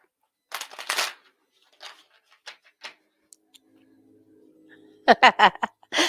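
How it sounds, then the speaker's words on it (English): A deck of playing cards is shuffled by hand in bursts of quick riffling flutters and soft clicks, with gaps between shuffles and faint background sounds. "I always shuffle 3 times and I almost only shuffle twice"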